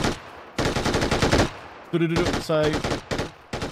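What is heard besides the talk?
machine gun fire in PUBG video game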